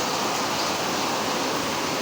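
Dense, steady rush of rainwater pouring off a tin roof and splashing onto a hard surface during a storm with strong wind; constant and loud, no voices.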